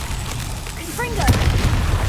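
A Confringo fire spell bursts in Hogwarts Legacy, giving a short booming blast with a crackling, whooshing tail near the end, loud and close, with a voice heard just before it.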